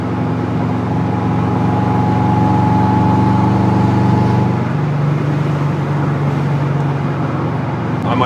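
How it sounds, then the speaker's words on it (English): A Subaru EJ257 SOHC hybrid build runs with a loud, steady engine drone, and a rising turbo spool whine comes in partway through and then fades back into the rumble. "turbo spool now."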